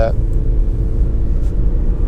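Lexus CT 200h 1.8 F Sport CVT hatchback accelerating on the road, a steady low engine and road rumble continuing evenly throughout, with someone talking over it.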